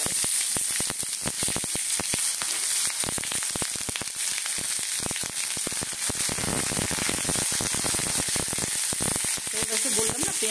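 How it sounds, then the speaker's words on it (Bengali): Garlic and onion hit hot oil and fry with a loud, dense, close crackling sizzle that holds steady throughout. "এইবারে দেব ওই তেলের মধ্যে রসুন দিলাম"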